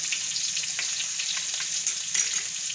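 Garlic hits hot oil in a pan with a steady, bright sizzle and crackle, close and continuous with a few louder pops, cooking for a cashew and pea curry.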